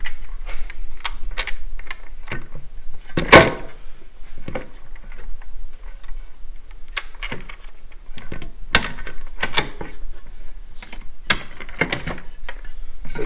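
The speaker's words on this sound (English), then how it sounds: "You can just use your finger to slide these bolts to make sure that they're good." Bolts slid by finger into a metal dual bracket make sparse close clicks and light metallic taps, with a few sharper knocks spread irregularly over a quiet background.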